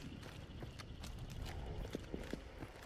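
Hooves of a horse in the game Hunt: Showdown clop on the ground in a short uneven series, moderately close over a low ambient bed.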